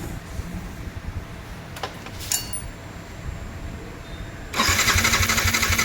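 A Yamaha R15 BS6 motorcycle with an ignition coil fault cranks without firing: a few short clicks and starter bursts, then a steady whirring crank near the end.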